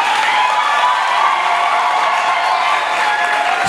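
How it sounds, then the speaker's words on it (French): Audience applause at a gospel choir album launch, a steady dense wash of clapping from a large crowd, loud and sustained throughout with no break. "Applaudissez encore plus."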